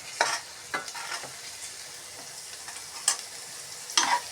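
Carrot pieces frying in a pan for a simple biryani, a soft steady sizzle broken by several short scraping stirs, close and fairly quiet with no talking.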